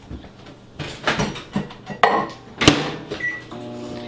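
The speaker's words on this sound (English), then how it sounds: "I'm going to put this in the microwave just for a second." Butter is softened in a microwave oven: the door clunks, buttons beep and tap, then the oven hums steadily with a faint tone as it starts running, all close and moderately quiet.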